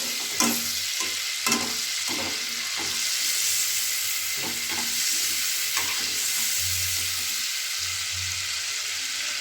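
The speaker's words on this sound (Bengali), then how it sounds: "চিংড়ি মাছগুলোকে ভাজতে দিয়ে দিলাম" Prawns fry in hot oil with a loud, steady sizzle, punctuated by several spatula scrapes and clinks against the pan, with no talking.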